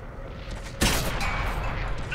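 A Chi-Nu Kai tank cannon fires in World of Tanks on PS4, one loud booming shot that cuts in suddenly and rolls on in a long rumbling tail over a steady battle background.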